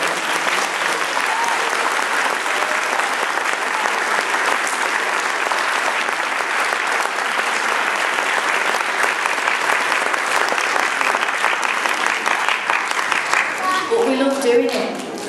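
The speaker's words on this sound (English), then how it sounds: "So I think you must give a big round of applause" Sustained audience applause fills a school nativity hall, dense steady clapping from a large crowd that carries on at full strength before thinning out near the end.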